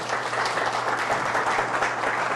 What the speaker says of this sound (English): If he can give him a round of applause, John Napolitani.